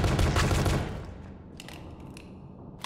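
Rapid automatic gunfire from a weapon in a pony-themed shooter game bursts loudly for under a second, then fades into a decaying rumble with a few faint clicks.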